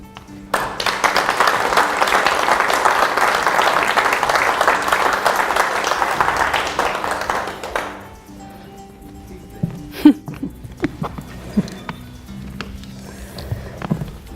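Studio audience applause welcoming a guest onto an evening business TV show, a dense, steady clapping that fills the first eight seconds and then stops, leaving a few scattered soft knocks and shuffles.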